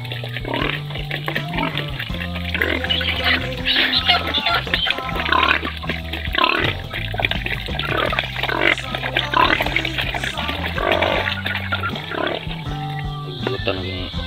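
A pig oinking and grunting steadily over roughly fourteen seconds, close and continuous, mixed with liquid sloshing and a voice talking underneath.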